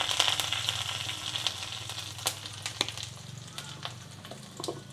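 Dried red chillies, curry leaves and asafoetida hit hot oil while tempering for thoothuvalai rasam, giving a loud, steady crackling sizzle with a few sharper pops, close up and without speech.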